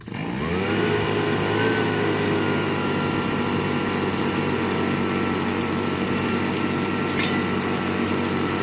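A gold dry washer runs steadily on its small engine, a continuous loud motorized drone with a busy mechanical rattle over it, holding an even level the whole time with no talking.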